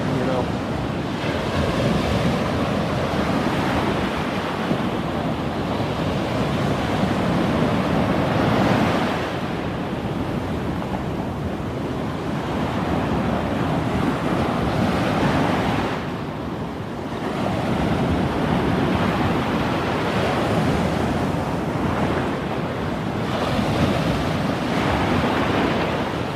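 Rough sea waves at Long Bay breaking and surging in long rolling washes that swell and recede, loud and close with heavy wind buffeting the microphone.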